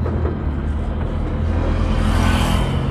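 A car pulling away slowly in first gear during a driving lesson, its engine giving a steady close whirring rumble with no break and no talking over it.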